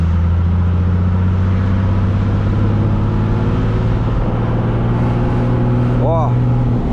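A Chevrolet Silverado with a 400 hp six-cylinder MWM diesel runs at high revs, a loud, close, steady droning rumble held throughout with a brief rising whine near the end.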